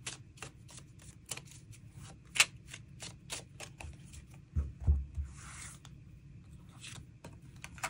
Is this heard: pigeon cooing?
no